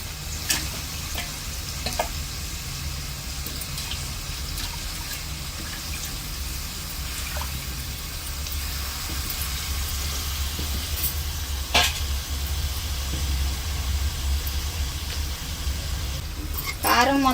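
Chicken pieces and drumsticks being stirred with chilli powder in a sizzling pan, a steady frying hiss throughout with occasional scraping clinks of the spoon, fairly close, no one talking.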